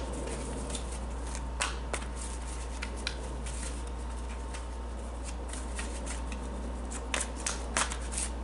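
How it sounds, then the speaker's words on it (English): Tarot cards are shuffled by hand close up in a quiet room, giving a continuous soft riffling and rustling with occasional sharper snaps of the deck. "And then I gotta shuffle the other deck"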